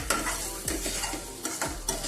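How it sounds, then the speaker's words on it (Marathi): A spoon scrapes and stirs egg bhurji with turmeric in a hot pan, a few rhythmic close strokes over a light sizzle, with no talking. "हळदी पावडर, सर्व एकजीव करून घेऊया"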